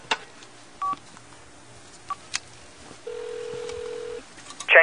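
A telephone is dialed in sparse single keypad tones, followed by a sustained ringback tone and a final burst of tones, all fairly close and quiet over a low background.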